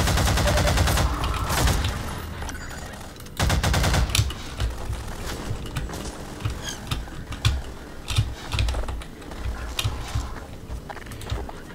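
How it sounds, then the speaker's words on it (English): Gunfire from a Half-Life 2 shotgun, a string of loud, sharp blasts at irregular intervals amid clattering game action, with no talking. "Oh yes, I'll use my long-range shotgun."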